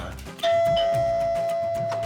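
A doorbell rings at the front door of a house in a Pakistani TV comedy, one bright electronic tone that sounds out and then holds steady as a long ring over a loud backdrop of music.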